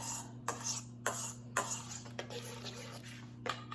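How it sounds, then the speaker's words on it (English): Tortellini salad stirred in a bowl with a utensil, giving repeated clinking and scraping strokes over a steady low electrical hum. "I've got to get it stirred."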